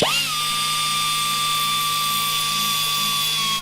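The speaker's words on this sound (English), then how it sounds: "So I'm just very, very slowly sanding it." A steady high-pitched whine of a small power tool runs without pause, like a rotary sander slowly sanding a 70-year-old LS-powered car at constant speed.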